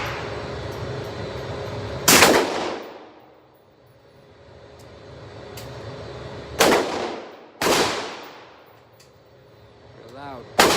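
Three loud, sharp gunshots at an outdoor shooting range aimed at a target 20 yards away, each cracking and echoing off into a long fading tail, spaced several seconds apart, with brief faint talk near the end.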